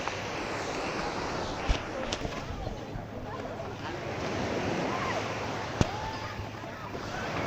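Ocean surf washes onto a beach in Tenerife in the Canary Islands, a continuous broad roar of waves mixed with gusty wind buffeting the microphone, plus a couple of sharp clicks.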